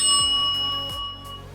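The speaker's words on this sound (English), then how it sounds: "ring the bell so that you get notified" A notification bell dings clearly as a sound effect. Bright ringing tones strike twice and decay smoothly, loud and alone, with no voices over them.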